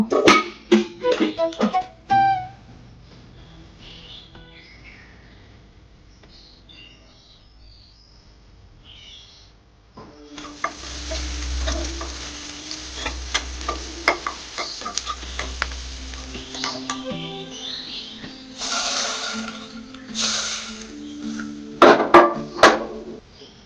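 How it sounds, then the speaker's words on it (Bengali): Spices tempering in hot oil for a Bengali dal, a steady crackling sizzle that swells after a quiet start, with bird chirps nearby and a few clinks of a utensil; no one speaks. "এখন এটা ফোড়ন দিব"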